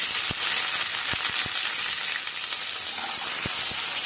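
Shallots (sambar onions) crackle and sizzle steadily in hot oil in a pan for a ginger brinjal curry, a dense continuous fry broken by a few sharp clicks, with no talking.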